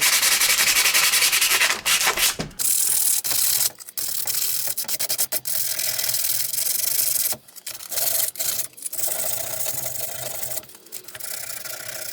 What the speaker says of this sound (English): take a little bit of sandpaper